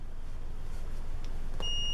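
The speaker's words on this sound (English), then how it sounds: "when you touch this fabric together you hear a beep" A single electronic beep from a continuity tester sounds briefly near the end, a thin steady tone over a low background rumble.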